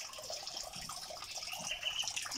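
Water being poured out to replace dirty water in a tilapia tank at a home vegetable garden, a steady close splashing and trickling that swells slightly toward the end, with no voices.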